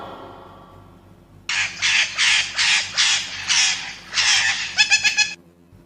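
A parrot squawks in a rapid series of harsh, loud, raspy calls, ending in a quick burst of shorter notes, close and alone.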